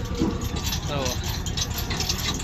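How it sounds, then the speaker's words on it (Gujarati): A farm tractor's engine rumbles steadily as it drives into a cotton field, with rattling throughout and people talking over it. "ટ્રેક્ટર અંદર આવી ગયું છે વાડી અંદર"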